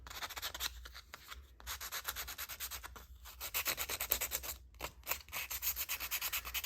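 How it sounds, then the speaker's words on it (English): Sandpaper rubbed on a clothing tag to rough it up, close, soft repeated scratchy strokes in quick rhythmic bursts with short pauses between them. "I'm just creating sand rough marks all around"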